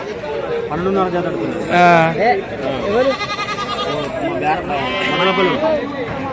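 Sheep and goats bleat repeatedly at a busy livestock market in Rajarampalli, their calls rising over a steady crowd of people talking nearby.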